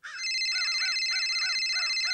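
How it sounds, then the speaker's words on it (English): A mobile phone ringtone plays continuously at steady loudness, a bright electronic tone with repeating chirpy warbles that could pass for birdsong, sounding alone with no talk. "my phone's ringing."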